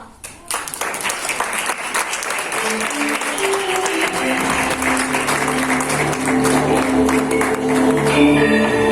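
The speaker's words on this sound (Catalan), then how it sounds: "Rebem amb un fort aplaudiment a la vident Esperança Gràcia!" Applause from an audience greets a clairvoyant performer at a children's theatre show, steady and dense through the clip, with sustained musical tones rising underneath as it goes on.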